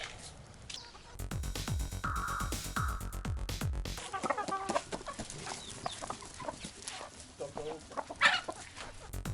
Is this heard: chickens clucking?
yes